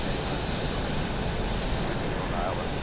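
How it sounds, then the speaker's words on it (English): A Boeing 737-800 sits parked at the gate in Microsoft Flight Simulator, giving off a steady, even cabin and engine hum. The drone stays constant and unbroken throughout. "it sounds just like a plane would when people are getting off"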